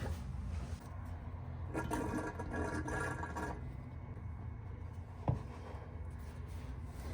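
Fluid draining from a bottle through a hose into the differential filler of a Chevy S10 during a mini spool locker install: faint, steady gurgling flow with one brief click near the end.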